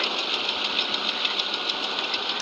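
A medium tank engine running steadily during a video game tank battle, a continuous droning rumble with a faint knocking pulse, even in level and with no voices.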